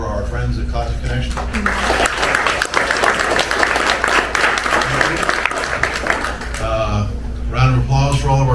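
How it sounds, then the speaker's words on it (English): Sustained audience applause at a live history-center tribute event, loud and dense for several seconds, with voices at the start and end. "How about another round of applause for our friends at Classic Connection?"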